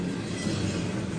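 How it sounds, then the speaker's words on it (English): A CSX Q137 westbound freight train hauls orange Schneider intermodal cars past near midnight, a steady, loud rolling rumble of wheels and cars with no break in the noise. "A lot of orange intermodals here."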